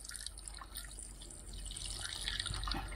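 Water is poured into a 12-year-old TATA-Cummins engine, a steady splashing trickle with drips that grows slightly fuller toward the end, heard close with no talking.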